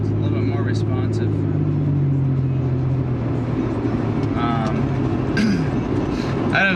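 Car on a test drive after new spark plugs, engine humming steadily with road and cabin noise while a person talks over it.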